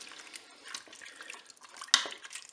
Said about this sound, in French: je vais verser un bouillon